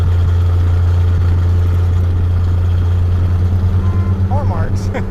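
A 1968 Plymouth Valiant engine runs with its old exhaust cut off just below the floor, a loud low droning rumble heard from inside the car, steady and close, with a slight pulsing toward the end.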